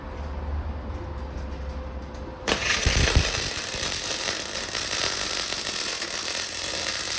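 A cheap Blackline 250 amp MIG welder lays a weld, its steady crackling buzz starting abruptly after a low idle hum and continuing loud and unbroken to the end.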